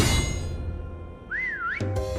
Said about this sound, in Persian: حالا داره هی سوت میزنه